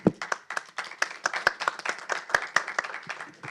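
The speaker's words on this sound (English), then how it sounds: "Yes, applause to all panelists." Audience at a public health conference applauding the panelists: scattered, uneven clapping from a modest crowd, with individual sharp claps standing out through about three and a half seconds.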